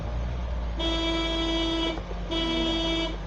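A car horn sounds during a driving lesson, two steady honks of about a second each with a short gap between, loud and close over a continuous engine and road rumble.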